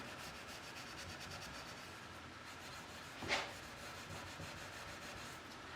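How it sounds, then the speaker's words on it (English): Steel wool charged with furniture wax being rubbed over a wooden chair finish during a repair, a steady soft scrubbing hiss that holds through the clip with one brief louder scrape partway. "you just want to rub it till the shiny gloss is gone"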